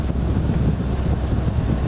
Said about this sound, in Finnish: Täällähän tuulee aika lailla.